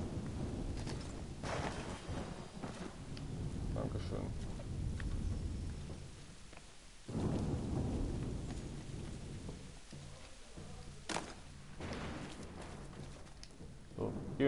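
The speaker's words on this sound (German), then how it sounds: "Außerdem regnet es immer noch" Steady rain with rumbles of thunder in the Assassin's Creed III video game, set in Boston, a continuous wash with a few sharp cracks and thuds over a low background.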